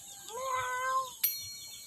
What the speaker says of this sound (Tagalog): Iring.